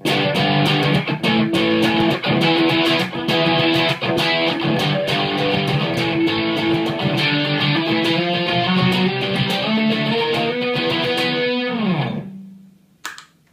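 An electric guitar through a crunch distortion pedal plays a chugging riff, loud and gritty, then rings out on a final chord that fades away.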